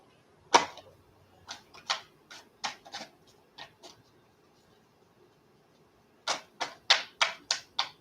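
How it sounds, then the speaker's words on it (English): Tarot cards being shuffled by hand: crisp, close clicks and snaps in two irregular bursts separated by a quiet pause. "I hate shuffling."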